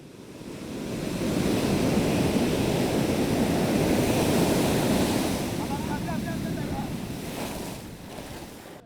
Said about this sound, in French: Des vagues de plus en plus fortes et fréquentes menacent les 1000 habitants de ce village.